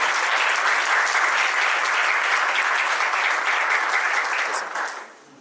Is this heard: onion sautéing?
no